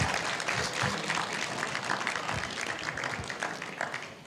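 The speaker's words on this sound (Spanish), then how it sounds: "vamos a darle un fuerte aplauso a los papás" A church congregation at a sermon gives the fathers a strong round of applause, a dense, steady wash of clapping held at an even level throughout with no voices over it.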